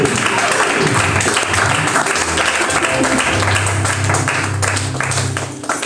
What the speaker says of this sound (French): acclame encore plus fort.